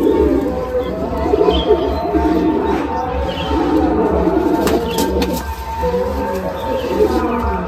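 A group of Andha Madrasi pigeons, including red-headed birds, coos loudly and close in overlapping throaty rolls, with a few sharper chirps and a faint voice in the background.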